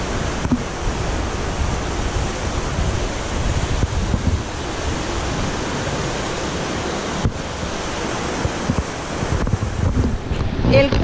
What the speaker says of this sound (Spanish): por donde vemos que entra el agua que se extrae del río Eresma.